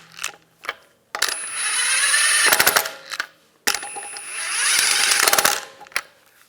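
Lug studs on a Jeep Cherokee rear wheel being run in with a power tool, two loud whirring bursts each about a second and a half long, ending in sharp rattling impacts, with small metallic clicks between them.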